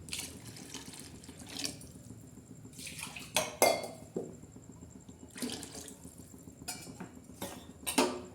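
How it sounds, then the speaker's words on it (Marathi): Hot water poured into a pot of home-style black-masala chicken curry, heard as a few separate splashing pours and sloshes with light metallic pot knocks between them, fairly quiet, with no talking. "थोडंसं गरम पाणी टाकणार आहोत"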